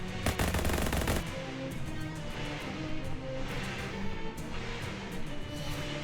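Rapid machine-gun style gunfire from the video game Shadows Over Loathing, a dense burst of shots in the opening second followed by a steady rattling stream of firing and game sound that runs loud throughout.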